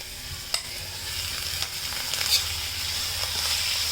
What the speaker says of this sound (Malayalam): ഇനി മീൻ പൊരിച്ച എണ്ണയിൽ തന്നെ കുറച്ച് സവാള വരട്ടിയെടുക്കാം